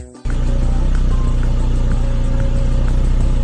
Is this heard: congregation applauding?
no